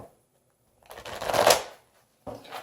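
Tarot cards are riffled and shuffled up close in two quick bursts, a crisp papery flutter with short pauses between.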